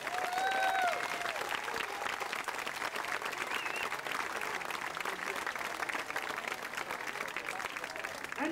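A crowd at a parade applauds, dense sustained clapping spreading over a wide area at moderate distance, with a brief tonal sound near the start and no clear talk over it.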